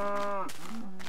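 Calves mooing in the Minecraft video game, one short, close, clear bovine moo rising then falling, followed by a second brief call, with no talking.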